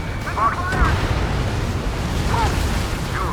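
Dull rumbling blasts roll under continuous low roar during air combat in the video game Ace Combat 7, with faint tonal radio chirps drifting above; heavy, steady and without clear individual peaks.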